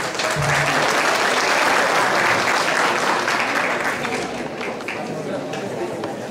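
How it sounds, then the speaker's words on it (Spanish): A seminar audience on property management gives a speaker a hearty welcome, sustained loud applause that eases slightly toward the end, with crowd chatter mixed in. "les pido por favor la reciban con un fuerte aplauso"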